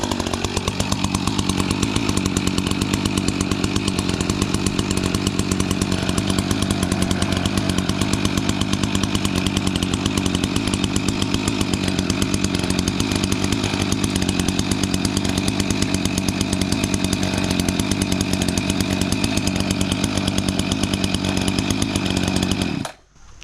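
A vintage small engine idles continuously with a buzzy, rapid-firing drone. It stays close and steady for about twenty seconds, then cuts off abruptly at the end.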